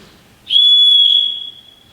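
A single sharp, loud whistle blast on stage during a high school production of The Sound of Music, a shrill steady tone held for about a second before fading, alone and close.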